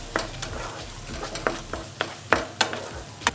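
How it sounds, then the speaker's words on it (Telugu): Garlic chutney (vellulli karam pachadi) fries gently in oil in a pan over a low flame. A soft continuous sizzle runs under sharp, periodic scrapes and clinks of stirring. "ఇలా పచ్చడి మొత్తం వేసుకున్న తర్వాత దీన్ని ఇలా మనం కాసేపు వేయించుకోవాలి."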